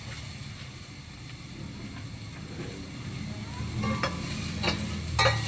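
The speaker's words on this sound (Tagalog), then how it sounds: "Gisa-gisa sibuyas." Onions sauté in a pan with a soft steady sizzle. Occasional scraping clicks of stirring grow louder toward the end, and no one speaks.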